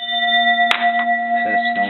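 A Japanese bronze Buddhist temple bell rings loudly from directly overhead, with a sharp strike partway through and sustained, steady tonal partials humming throughout, with some faint knocks near the end.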